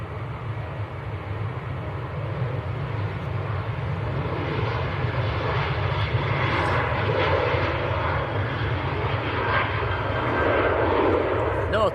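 A Jet2 passenger jet at Manchester Airport gives a continuous, fairly loud engine roar that rumbles steadily for the whole stretch, with someone speaking over it.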